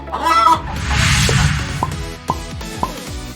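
A chicken clucks in a quick series of sharp, close calls, with a brief ruffling burst between them, loud and clear with no speech.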